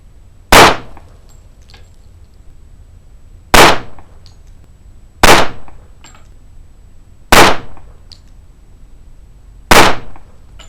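Five loud, sharp handgun shots from a Springfield Armory Range Officer Champion firing Barnes XPD rounds at an outdoor range, evenly spaced about two seconds apart, each with a short decaying tail and no talking.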